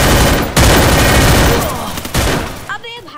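Rapid, loud gunfire in a video game, with dense bursts in quick succession, then a short pause and more shots that trail off near the end.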